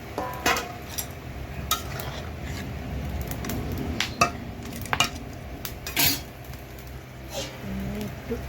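Water and fish go into a cooking pan while pumpkin greens are prepared, heard as scattered sharp clinks and clatters of metal utensils against the pan over a quiet background.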